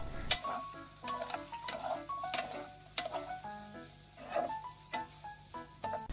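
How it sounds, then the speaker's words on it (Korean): Dried pumpkin strips with perilla oil, scallion and garlic sizzle in a hot pan over medium-low heat while a utensil scrapes and taps repeatedly, stirring in an irregular rhythm, close by. "약 1분 볶아주세요."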